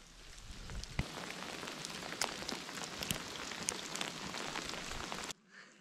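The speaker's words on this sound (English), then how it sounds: "And now it's hailing." Dense patter of hail striking a hard surface outdoors in the wilderness, with a few sharper ticks, steady until it cuts off abruptly near the end.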